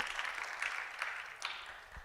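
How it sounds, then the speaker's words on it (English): Light, scattered clapping from a small crowd at a women's economic forum, soft and somewhat distant, fading slightly over a couple of seconds. "So again, a round of applause."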